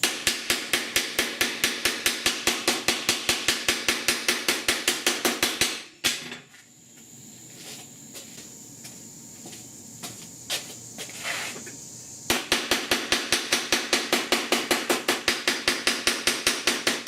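A planishing hammer shapes sheet metal into custom A/C dash vent pods with rapid, evenly spaced metallic blows, then stops for several seconds of quiet shop noise before the fast pounding starts up again.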